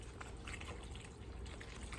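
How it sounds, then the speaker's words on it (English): Rubbing alcohol poured from a container into a plastic bag of dry pasta, making a steady liquid trickle and splash that runs without a break for the whole stretch at moderate level, with no talking. "pour the rubbing alcohol"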